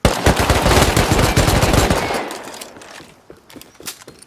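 Video-game gunfire crackles in a loud, rapid automatic burst, fading after about two seconds into scattered, fainter distant shots.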